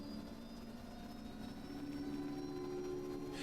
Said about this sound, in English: I love the sound of the helicopter.